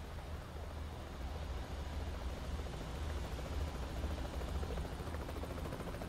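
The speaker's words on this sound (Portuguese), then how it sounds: "Um helicóptero apareceu na transmissão." A helicopter in American Truck Simulator gives a steady low rotor drone with a broad engine rumble, constant and fairly loud throughout, with no voices over it.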